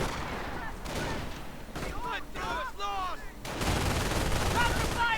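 Rapid bursts of gunfire and explosive booms crackle through a video game battle, with a voice talking over the dense, continuous din.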